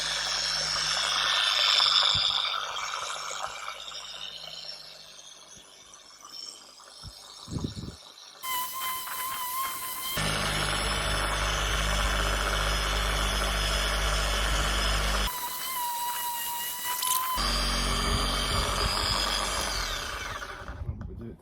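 A dual action polisher works the paint of a Mercedes SL350 R230 during paint correction, its motor humming steadily and then jumping to louder, higher-speed runs in separate bursts, close up, with no talk.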